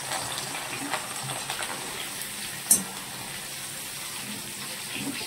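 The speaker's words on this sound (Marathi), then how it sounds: "कोथिंबीर तळून घ्यायची आहे आपल्याला." Coriander leaves fry in hot oil for a spicy raw poha snack, a steady close hiss with soft crackles and one brief sharper pop.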